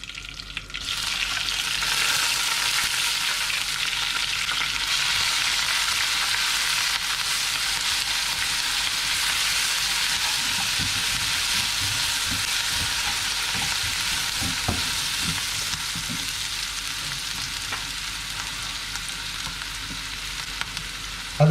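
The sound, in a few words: crushed ginger frying in oil for beetroot pickle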